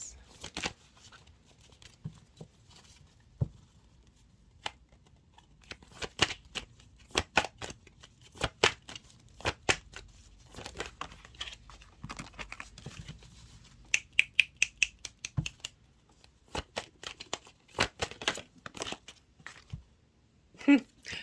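A tarot card deck is shuffled by hand, giving repeated crisp snapping riffles in quick irregular bursts over about twenty seconds, close and fairly quiet against a near-silent room.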